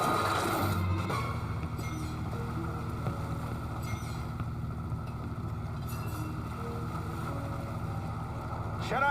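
Boat engine sound effect from a JAWS pinball machine: a continuous low motor drone with a rushing, wind-like wash that runs steadily throughout, alongside faint machine noises.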